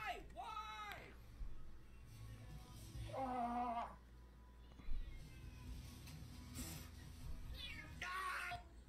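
A cat meows several times in drawn-out, rising and falling cries, with short gaps between them, while voices and background noise carry on underneath.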